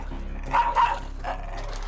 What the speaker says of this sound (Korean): 일정 거리를 두고 다가갔는데도 보호자를 향해 으르렁대며 사납게 구는